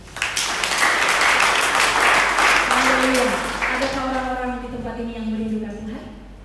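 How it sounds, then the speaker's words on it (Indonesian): A church congregation applauding loudly in a dense, sustained burst of clapping that fades after a few seconds as a voice begins singing over it. "Tepuk tangan bagi Allah kita."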